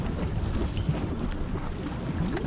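Bubbling, boiling water in the Otherworld of Silent Hill 2 Remake, a dense low churning rumble with a hiss of wind, steady and unbroken from start to end.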